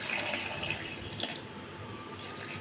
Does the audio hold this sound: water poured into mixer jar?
yes